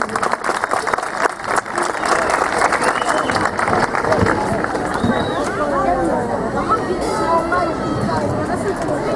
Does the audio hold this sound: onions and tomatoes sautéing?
no